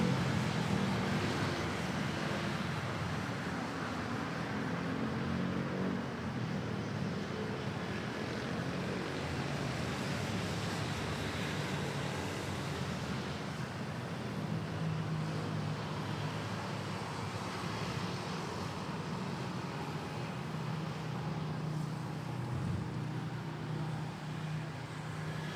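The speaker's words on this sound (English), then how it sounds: "let's just enjoy the takeoff of this A350K Philippine Airlines flight PR 730 off to Bangkok" A Philippine Airlines Airbus A350 on flight PR 730 taking off from Manila Airport, heard as a steady, distant, broadband engine roar that holds at an even level throughout.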